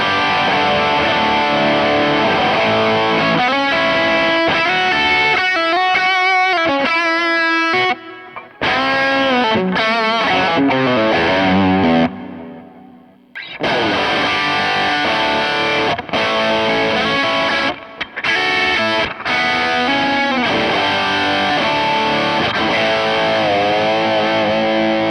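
Heavily distorted electric guitar runs through a Kemper amp profile with scooped mids, playing loud sustained chords and riffs with brief choppy stops partway through.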